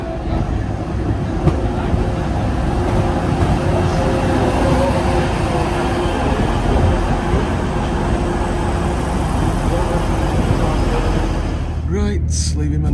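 A single-unit train pulls out of Manchester Piccadilly station, giving a steady low rumble and rolling rail noise throughout, with a brief rattle near the end.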